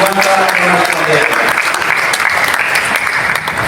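Dense, loud applause fills the whole stretch, a continuous wash of clapping from a large audience at a Betawi community gathering honouring the attending organisations.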